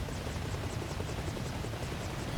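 Helicopter in the video game Arma Reforger, a steady rotor drone with faint rhythmic blade chop running without pause, moderately loud and continuous with no talk over it.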